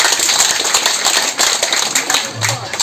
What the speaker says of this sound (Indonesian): Tepuk tangan untuk Bumdes.